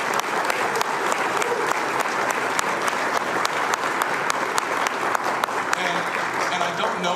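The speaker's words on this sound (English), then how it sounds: "That is worth a round of applause." A room full of people applauds in steady, dense clapping that holds for the whole stretch, loud and continuous, with a faint voice briefly underneath.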